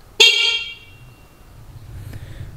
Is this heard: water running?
no